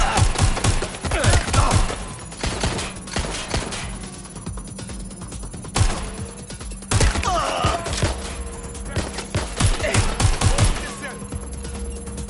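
Rapid bursts of gunfire and scattered single shots in Watch Dogs: Legion ring out close and loud, with a shouting voice and electronic ringing tones mixed in over a noisy combat backdrop.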